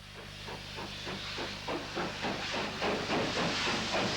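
A GWR 9700 condensing tank steam locomotive, built for Metropolitan Railway tunnel work, chuffs in a steady, quickening rhythm of loud exhaust beats over continuous hissing steam, close and dominant.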